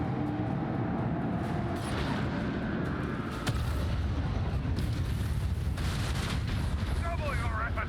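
Torpedo blasts in a Warhammer 40K Rogue Trader space battle, rolling booms and rumbling bursts layered over dense continuous noise, with a sharp crack midway and voices talking faintly beneath.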